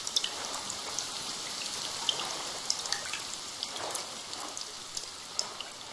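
Steady rain in the survival video game The Forest, a dense, even hiss of falling drops with sharper individual patters and drips popping through it. It continues without pause and no one speaks.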